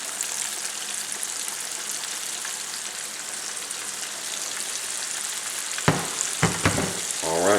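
Louisiana catfish fillets frying in a batch of hot oil, a steady dense sizzle throughout, with a few clanks and stirring sounds near the end.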